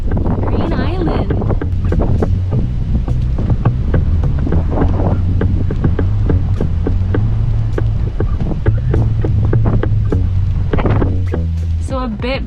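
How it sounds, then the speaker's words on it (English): Steady wind buffeting a microphone at a sailboat anchorage by Green Island, a loud continuous rumble with gusty low roar and faint water sounds beneath. "it's just a nice enough breeze to keep us cool, which is so nice"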